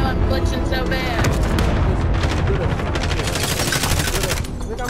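Rapid video game gunfire rattles in dense automatic bursts with booming impacts, loud and continuous, while players talk over it.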